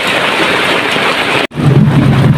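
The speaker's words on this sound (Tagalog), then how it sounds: "Ang lalakas ng mga kulog at kidlat guys." Heavy rain pours onto a small leaky shop during a thunderstorm as a dense, loud hiss, breaks off for an instant, then returns with a low rolling rumble of thunder underneath.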